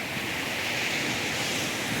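Sea waves at a beach wash in a steady, broad roar of surf, with some wind buffeting the microphone, continuous and fairly loud with no voices.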